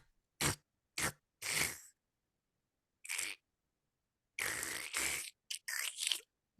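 A voice imitates hooves sucking and slurping through thick mud, giving a series of short, wet, squelching bursts separated by silences, with a longer cluster of sloppy squelches near the end.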